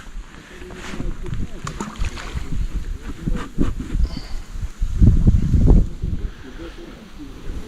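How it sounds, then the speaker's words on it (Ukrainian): Strong wind buffets the microphone beside a reed bed at a fishing spot, with a constant roar and heavy gusts, swelling loudest near the end. "Дуже сильний вітер."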